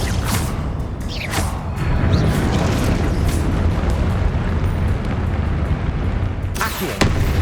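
A Confringo fire spell detonates in Hogwarts Legacy, a loud rumbling, roaring blast with whooshing bursts near the start and end, sustained and close with no speech.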